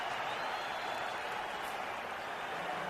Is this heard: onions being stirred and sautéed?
no